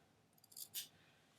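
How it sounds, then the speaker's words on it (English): A couple of quick, close scissor snips cutting a fabric corner, crisp and brief, in an otherwise quiet room. "we want to cut our corner here so that we can turn everything properly"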